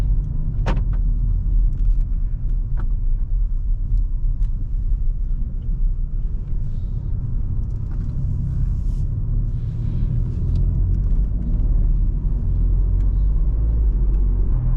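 A 2020 Audi A1 Sportback 30 TFSI with a 116 hp engine and seven-speed S-Tronic automatic gearbox drives along, heard from inside as a loud, steady low cabin rumble with road noise and a couple of faint clicks.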